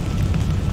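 An explosion in the sci-fi survival horror game Dead Space rumbles as a deep, sustained low boom, loud and close, without any distinct onset within the short stretch.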